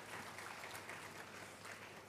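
An audience at a graduate school congregation ceremony applauding the Vice-Chancellor, a faint, steady wash of clapping from a distant crowd lasting the whole short stretch.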